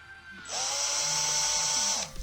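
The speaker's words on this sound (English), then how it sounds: "Here's the drill nibbler" A drill nibbler bites into the metal of a Toyota GT86 front wing for a Rocket Bunny arch install, letting out a high, whining, buzzing cut that lasts about a second and a half.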